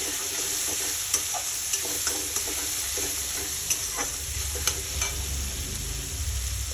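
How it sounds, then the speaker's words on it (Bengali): Chopped onion frying with black cumin in oil, a continuous sizzle punctuated by repeated clicks and scrapes of a spatula stirring, close up with no talking. "পেঁয়াজ কুচিটা এখানে দিয়ে দেবো। তো এটাকে মোটামুটি আমি ভালো করে ফ্রাই করে নেব।"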